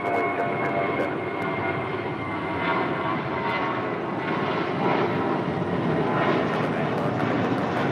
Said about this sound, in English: This is United 1185 departing to Los Cabos on an A320.